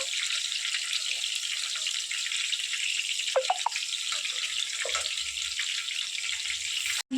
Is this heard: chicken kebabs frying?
yes